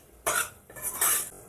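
A spoon stirs garam masala through mutton haleem in a pot, giving two short bursts of scraping and clinking, close and fairly soft, with no talk.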